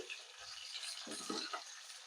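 Okra (bhindi) frying in a pan with turmeric and salt, a quiet steady sizzle broken by a few brief stirring scrapes near the middle.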